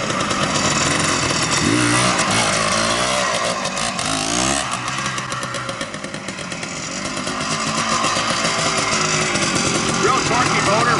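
A 1971 Greeves Puch 169cc Pathfinder motorcycle with a tight, torquey engine makes a loud, raspy drive-by down a street, its revving engine building, dipping briefly as it passes, then roaring on near and steady throughout.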